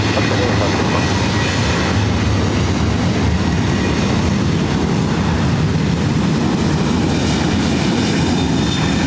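A Southwest jet airliner takes off at LAX with a loud, sustained engine roar that fills the whole stretch, broad and rumbling, heard from nearby.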